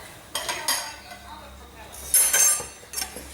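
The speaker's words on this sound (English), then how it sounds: "now we're going to fold in the egg white" A utensil works egg white into pancake batter in a mixing bowl, giving soft scrapes and a few sharp clinks against the bowl in irregular bursts, with some background noise between strokes.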